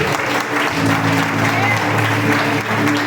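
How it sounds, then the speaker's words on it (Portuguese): Church congregation applauding loudly during a worship service, a sustained, dense wall of clapping from a large crowd with a voice faintly over it. "Aplauda o Senhor! Aplauda bem forte!"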